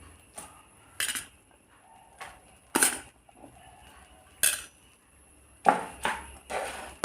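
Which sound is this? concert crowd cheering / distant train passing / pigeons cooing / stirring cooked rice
stirring cooked rice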